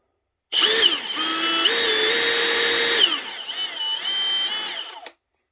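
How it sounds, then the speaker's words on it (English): A Milwaukee M18 Fuel cordless drill motor whines loudly at high speed, its pitch stepping up and then dropping before spinning down and stopping. "The motor is really whiny sounding."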